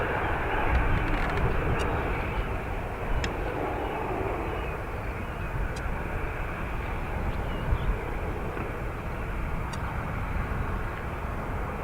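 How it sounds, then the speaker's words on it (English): Airbus A330 jet taking off at Dublin Airport, a steady broadband engine roar that holds loud and constant throughout, with no voices. "That's EI 586, an A330 off to Malaga."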